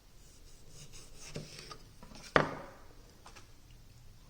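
A knife cuts through a large seed potato: a soft scrape, then one sharp, close cutting snap about halfway through, over a quiet background with no talking.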